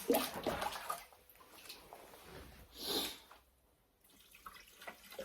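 Water poured from a jug into a Maxi Cooler 110 beer cooler splashes in short bursts, one near the start and one in the middle, before trailing off to quiet dripping.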